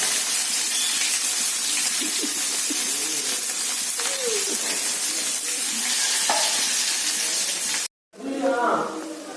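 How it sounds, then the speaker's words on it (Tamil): Mustard seeds and onion sizzle in hot oil on a home stove, with a steady frying hiss and scattered stirring clinks throughout, and faint voices breaking through now and then. "எண்ணெய் காஞ்சிச்சு, கடுகு போடணும். கடுகு நல்லா பொரிஞ்சு போடணும். வெங்காயம் போடணும்."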